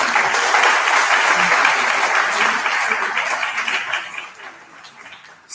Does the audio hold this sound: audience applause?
yes